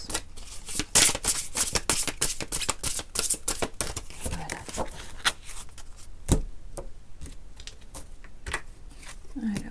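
Tarot cards shuffled and drawn, then laid out on a table during a reading, a dense run of crisp close flicks and slaps with a few louder taps.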